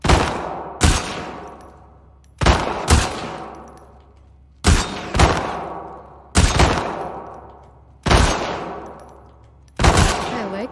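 Shots fired during a shooting contest in The Last of Us Part II: six loud, separate bursts, mostly close double shots, each trailing off into a ringing decay, with quiet gaps in between.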